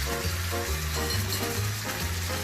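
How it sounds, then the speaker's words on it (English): Porterhouse steak and pork chops sear in a hot pan with a steady, close sizzle and crackle, constant throughout with no talking. "we're going to let these sear and let them do their thing"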